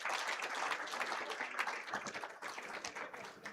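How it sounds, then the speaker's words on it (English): An audience at a health summit applauds, a dense crowd of clapping that stays loud and even for a few seconds before tapering slightly. "Let's applaud Dr. Lily and the team for a wonderful session."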